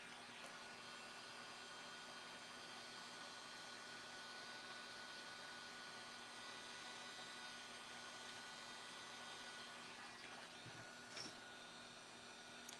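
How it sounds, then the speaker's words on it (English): A dryer left running in a craft room gives a steady, faint whooshing drone that holds without change from start to end, with no voices. "Is that dryer loud?"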